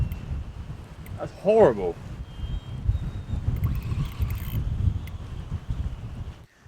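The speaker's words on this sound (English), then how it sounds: "Where's this wind come from?" Strong wind gusts buffet the microphone on a shore fishing beach in the Canary Islands, a steady broadband roar with louder surges, while people talk briefly over it.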